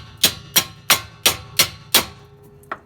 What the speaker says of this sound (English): I'm just going to tap it with a hammer to get it out.